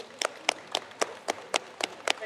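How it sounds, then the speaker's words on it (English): Hands clap in a steady, evenly spaced beat, about eight sharp claps in a row, like a small group clapping in unison. "Big round of applause."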